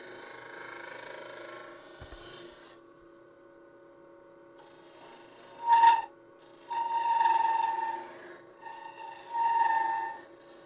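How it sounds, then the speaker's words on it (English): A radius scraper cuts an end-grain wooden bowl spinning on a lathe, producing short raspy scraping passes with whining tonal squeals, separated by quiet gaps where the tool lifts off. "I'm going to come in there with a round nose scraper. I got to clean up the sides here. This radius scraper coming in from the center."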